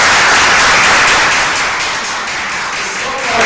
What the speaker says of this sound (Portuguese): Vamos dar uma salva de palmas para vocês.